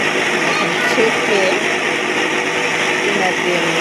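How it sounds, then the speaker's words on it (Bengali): A kitchen blender purées boiled tomatoes for homemade tomato sauce, running at a steady, loud, high-pitched whir for the whole stretch with no break. "ব্লেন্ডারে ব্লেন্ড করে নিব একদম মানে ভর্তা ভর্তা করে নেব"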